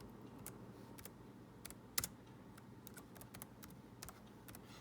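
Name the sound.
typing a name on a computer keyboard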